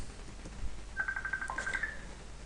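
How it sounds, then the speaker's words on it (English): A mobile phone rings briefly, a rapid string of short electronic tones lasting about a second, fairly clear over a quiet room hum. "Sorry, my phone's ringing"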